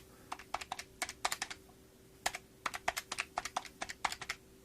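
Quick bursts of key taps on a computer keyboard entering numbers into a calculator, about two dozen close, crisp clicks in uneven clusters with a short pause in the middle, heard alone.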